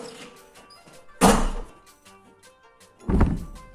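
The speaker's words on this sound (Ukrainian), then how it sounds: "Двері не забудь зачинити." An apartment door is shut twice, each a loud solid thunk with a short rattle, separated by a couple of seconds of quiet room sound and faint movement.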